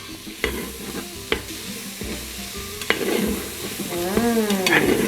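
Onions and cubanelle peppers fry in a pan for a Dominican salami rice, a close steady sizzle broken by several sharp spoon scrapes and clinks of stirring.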